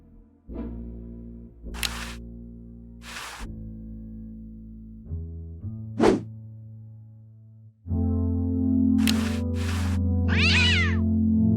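A cat yowls in the Day of the Tentacle video game, long drawn-out meows sounding alone with sharp clicking bursts between them, ending in a loud sustained wail.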